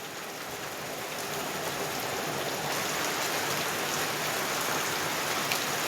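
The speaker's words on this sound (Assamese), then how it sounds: "বৰষুণ কিমান বৰষুণ" Steady rain falls outdoors, a dense, even hiss of drops on surfaces that holds constant and fairly close throughout, with no voices over it.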